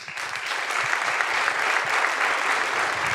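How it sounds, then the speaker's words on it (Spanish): A comedy show audience breaks into steady clapping, a thick wash of many hands applauding for a few seconds, with a faint murmur of voices underneath. "A ver, aplauda."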